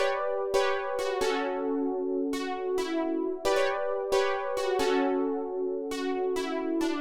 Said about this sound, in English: I grabbed this polyphonic line preset in Triton and I laid out these pretty simple chords.